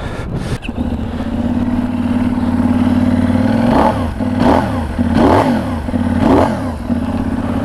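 A 2020 Benelli 752S with a 754cc twin-cylinder engine hums steadily under a rider, then rises and falls through several loud revving surges, close and continuous with no talk.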